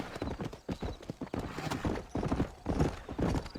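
Horse hooves galloping in Red Dead Redemption on Xbox 360, a loud, steady, rhythmic clip-clop running throughout, with a brief neigh mixed into the pounding.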